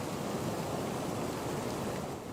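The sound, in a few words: heavy rain falling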